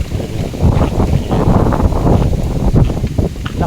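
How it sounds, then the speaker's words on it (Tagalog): Strong wind roars through a forest in continuous gusts, close and loud, with rustling and buffeting against the microphone. "Lakas ng hangin"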